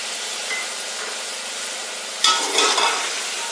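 Mixed vegetables for a pulao sauté in a pan with a steady, soft sizzle, and a brighter burst of frying and stirring noise comes partway through, close by with no talking.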